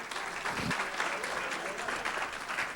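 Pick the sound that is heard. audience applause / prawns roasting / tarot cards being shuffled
audience applause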